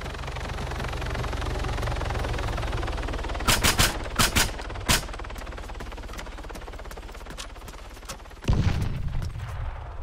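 Automatic gunfire in Arma 3 crackles in a few quick bursts over a steady rumbling background, followed by a heavier boom near the end.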